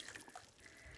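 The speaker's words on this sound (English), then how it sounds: "I'm going to fill it with water." Tap water runs into a cleaning sponge as it fills, a brief soft splashing trickle close by, fairly quiet and without speech.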